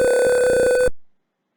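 A buzzer in an Arduino IR motion sensor simulation sounds a loud, steady electronic tone that holds for about a second and then stops abruptly.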